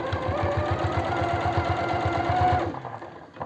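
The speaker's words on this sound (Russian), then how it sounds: "Наизнанку отворачиваю вверх, вот так на сантиметре где-то. Даю строчку, чтобы не использовать оверлок." A sewing machine stitches a folded fabric hem of about one centimetre, a fast rhythmic chatter of needle strokes, close and steady, that stops near the end before a faint click.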